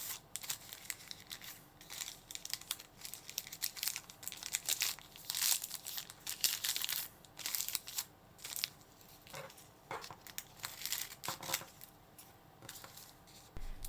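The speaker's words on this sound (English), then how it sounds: "Cut a piece of kitchen paper to the size of your pot. Fold it into a triangle, then trim it fit the pot's radius." Kitchen paper being folded and cut into a drop lid, a close series of crinkling rustles and scissor snips in irregular bursts, with no talking.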